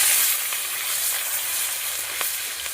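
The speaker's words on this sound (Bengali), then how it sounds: "ভালো করে লাল লাল করে মাছ ভাজাটা করে নিচ্ছি।" Pieces of fish frying in a pan of hot oil, a steady bright sizzle with faint crackles throughout, close and with no voices.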